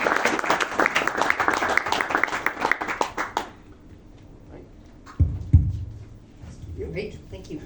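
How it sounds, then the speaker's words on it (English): A crowd claps to welcome a speaker on stage, a burst of applause lasting about three seconds before fading out, followed by quieter room noise, a thump and a voice. "Please, a big round of applause"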